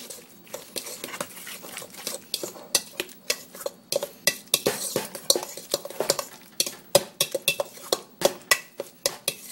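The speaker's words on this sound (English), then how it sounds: "Now let's use that fork because we don't have a lot, and we're going to mix it all up." A fork beats egg into grated potato pancake mixture in a bowl, making rapid, rhythmic clinks and wet slaps that repeat about twice a second; close and crisp, with no voices.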